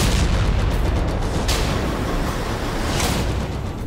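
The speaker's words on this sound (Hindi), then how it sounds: "रात के अंधेरे में अफरा तफरी और धमाकों की यह तस्वीर उस हमले की है।" Explosions and chaos during a Saturday night militant attack targeting Americans: a constant heavy rumbling roar with two sharp blasts around the midpoint and near the end, with no voices.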